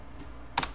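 A single short clack of a computer keyboard key lands near the end of a quiet stretch, close and crisp, with a faint earlier tap.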